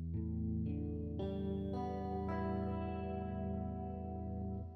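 Six-string electric guitar in standard tuning, strings added one by one into a full sustained chord, thick with chorus and distortion effects and ringing alone without voices.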